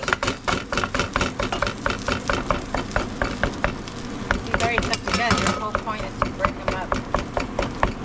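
Ground beef is broken up in a hot pan with a spatula, a busy scraping and tapping over constant loud sizzling and frying, close and continuous.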